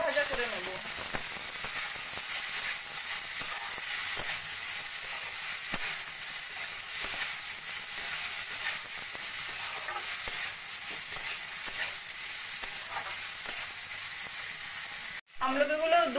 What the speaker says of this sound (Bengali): এবার ভালো করে একটু ভাজা ভাজা করে নেব